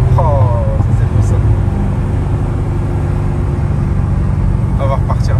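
Corvette Z06 with a 7-litre V8 of over 500 hp rumbling steadily through open windows from inside the car, a loud, continuous low drone, with a voice speaking briefly over it.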